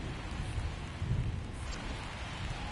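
Rain falls during a baseball game in Cincinnati in the video game MLB The Show 23, a steady, moderately loud hiss with a low rumble beneath it and no talk.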